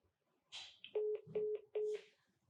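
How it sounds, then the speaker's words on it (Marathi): A telephone being dialled: three short, evenly spaced keypad tones ring out clearly after a brief rustle, with no talking over them. "आपण त्यांना फोन लावला, रजनीश सेठ."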